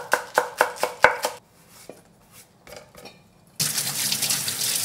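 Green onion chopped with a knife on a board, about six quick, evenly spaced close chops followed by a few scattered taps, then a sudden steady rush of running water.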